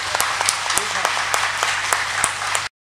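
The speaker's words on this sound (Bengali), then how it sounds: "আমি আজকের এই দিনে সবাইকে বলছি আমার মায়ের জন্য একটা করতালি আপনারা দেবেন" Audience applause for the speaker's mother at a gathering: scattered hand claps in a steady patter for several seconds over a low hum, then cutting off abruptly.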